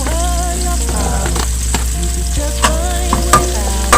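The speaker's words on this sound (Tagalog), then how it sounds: "Saute them thoroughly" Garlic sautéing in a hot pan for Bicol express, a steady close sizzle and crackle with scattered scraping stir strokes and light clinks throughout.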